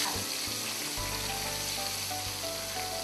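Shrimp frying in hot oil in a home kitchen, a steady close sizzle and crackle running unbroken throughout with a low hum beneath.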